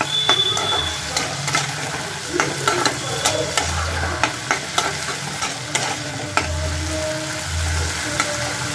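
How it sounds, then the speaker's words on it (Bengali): Radish greens with lentils being stir-fried in a home kitchen: steady sizzling with repeated scraping spatula strokes and clinks, close and continuous, no talking. "এবার ডালটা দিয়ে এবার এটাকে ভাজা ভাজা করবো শাকটাকে"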